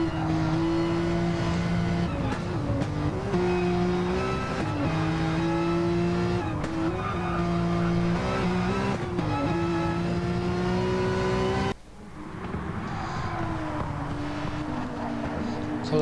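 Porsche Cup race cars scream past at close quarters, their engines droning loud and high with gear changes and shifting pitch as they run nose to tail. A commentator talks over the engine noise.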